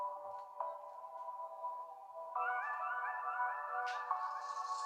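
A phone ringtone plays loudly from the rear speaker of a NUU Mobile R1 rugged phone at maximum volume, a clear electronic melody that steps up in pitch partway through, heard alone in a quiet room.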